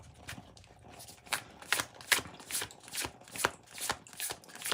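Tarot cards are shuffled and drawn by hand, a series of soft, crisp riffling and slapping bursts repeating in an uneven rhythm, close and fairly quiet.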